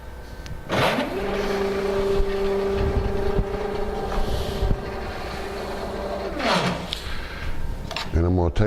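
A CNC router gantry moves along its axes above a wooden sign board, giving a steady motor whine that ramps up, holds for several seconds and winds back down, followed by a short second burst.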